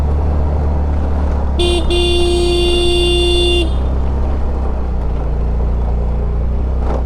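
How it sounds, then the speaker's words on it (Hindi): A single sustained car horn blast lasting about two seconds, heard over a steady low engine rumble, on a winding road in the Mirik Valley during heavy rainfall. "एवरी टर्निंग पे हॉर्न बजाते हुए आना है ऊपर."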